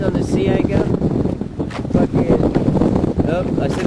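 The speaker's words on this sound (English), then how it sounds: "A south-southwest wind, blowing at about 30 knots, maybe even gusting stronger." Strong south-southwest wind of about 30 knots buffets an ocean rowing boat riding on a sea anchor, a loud, gusty roar with microphone rumble that runs continuously under a voice speaking.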